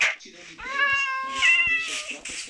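Kittens at a pet shop in a city-building game give loud, close, drawn-out meows, several overlapping cries in quick succession.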